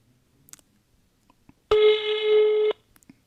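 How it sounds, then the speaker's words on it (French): A single telephone ring tone sounds for about a second, a loud steady electronic tone after a few faint clicks, then quiet with small taps. "Donc, on va appeler cet homme."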